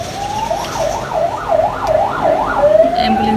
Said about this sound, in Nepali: एम्बुलेन्सको साउन्ड फास्टै डर लागिरहेछ भनेको यो टाइममा त।